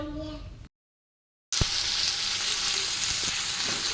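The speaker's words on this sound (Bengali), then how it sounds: "আমি এখন রান্না করছি তো কি রান্না করছি দেখো এই যে এখানে পটল আলু" Pointed gourd and potatoes cook in a pan on a home stove, a close, steady sizzle and fry with occasional stirring clinks. A short silent gap breaks the sound near the start.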